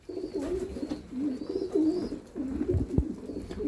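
Pigeons cooing outside on a rooftop after rain, soft continuous rolling coos repeating through the whole stretch, moderately near, with faint background noise and a brief knock.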